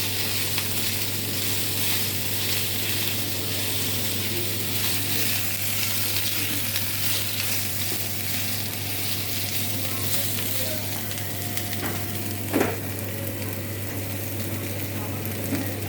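Potato, sweet potato, eggplant and drumstick pieces fry in a pan for Bengali shukto, giving a steady, close sizzle throughout with a brief clatter of stirring near the end.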